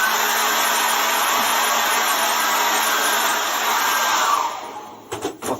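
A hair dryer blows steadily over an acrylic landscape painting, a loud continuous whoosh that runs for several seconds before cutting off, followed by a few soft handling knocks.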